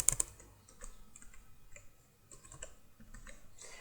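Rapid keystrokes on a computer keyboard come in uneven bursts of close, crisp clicks with short pauses between, no talking.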